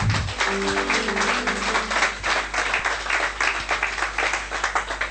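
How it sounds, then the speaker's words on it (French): A church congregation at a French-language worship service claps loudly and continuously, a thick wash of applause with voices calling out over it near the start. "Applaudissez Jésus-Christ, gloire à Dieu."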